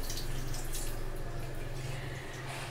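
Water runs steadily from a kitchen tap during cooking, a continuous close splashing rush that holds for the whole stretch without stopping.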